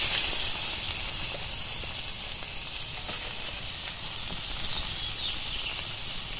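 Chopped onions fry in oil with panch phoron, bay leaf and dried chilli, giving a dense, even hiss and sizzle close up, with faint stirring taps beneath and no speech.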